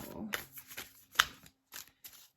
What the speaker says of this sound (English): They're not always the easiest to shuffle.